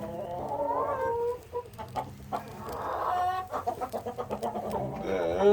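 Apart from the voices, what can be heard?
chickens and roosters clucking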